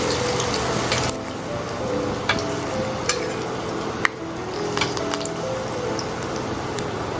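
Battered jute leaf fritter lowered into hot oil, frying with a steady close sizzle and a few sharp pops and crackles.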